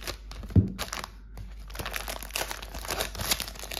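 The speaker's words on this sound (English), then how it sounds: "keeping them here in a plastic bag." A plastic bag holding Magic: The Gathering cards crinkles and rustles close to the mic, with a sharp crackle near the start, then continuous soft crumpling.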